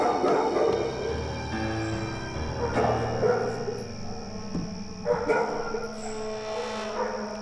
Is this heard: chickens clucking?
no